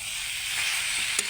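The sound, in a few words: fried potatoes and drumstick curry sizzling while stirred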